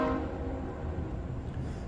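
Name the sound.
train passing by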